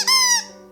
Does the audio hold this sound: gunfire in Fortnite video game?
no